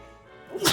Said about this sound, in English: Pardon me. Bless you.